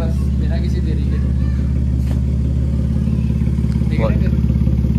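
A car with a damaged fender pulls away as a steady, droning engine hum runs beneath constant chatter, with faint clatter and a slight rise in revs near the end.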